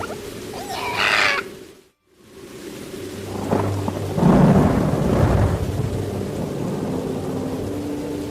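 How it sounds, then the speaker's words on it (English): Steady heavy rain hisses throughout while a deep rumble of thunder rolls in and swells loudly, preceded by a brief sharp crackle. "For the first time in a century, the rain is unrelenting."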